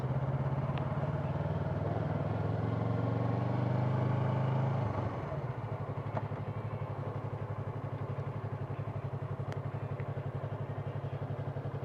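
Motorcycle engines rumble close by at a small bike meet of Harleys, a low steady drone that shifts to a lower, pulsing idle about halfway through, with no one talking.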